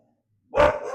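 A dog gives a single sharp, loud bark close by, breaking the silence before it.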